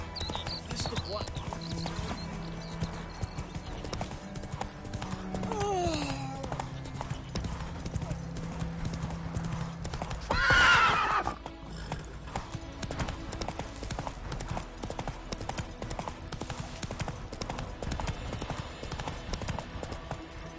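Hoofbeats of Roach, Geralt's horse in The Witcher 3, clop steadily at a quick gallop-like rhythm throughout, close and continuous beneath game music and occasional spoken voices.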